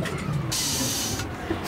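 Recycling lorry letting out a loud air hiss as it stops, two bursts of broad hissing separated by a short pause, close by and without speech.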